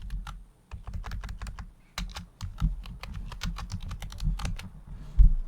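Computer keyboard keys clack in a quick irregular run of close, crisp taps while a keyboard shortcut is entered in DaVinci Resolve editing software, with brief pauses between clusters of presses.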